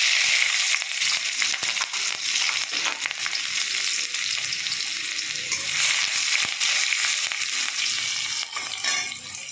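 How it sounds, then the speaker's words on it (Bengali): Garlic and green chillies frying in hot oil in a pan, with black cumin already added, giving a loud, steady, crackling sizzle close by that runs without pause and with no voices. "এবার আমি রসুন আর কাঁচা লঙ্কা দেবো এর মধ্যে"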